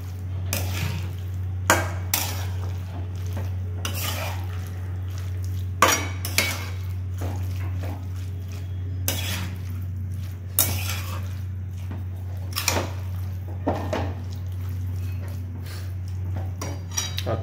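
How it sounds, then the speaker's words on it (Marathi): Spoon stirring tomato bhaji with jaggery in a pan, repeated metallic scrapes and clinks at an uneven pace over a steady low hum, close and moderately loud, with no voices. "आणि याला आपल्याला मिक्स करून घ्यायचं आहे प्रॉपरली।"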